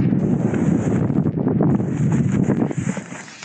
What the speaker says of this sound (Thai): ตอนนี้ลมยังแรงอยู่นะ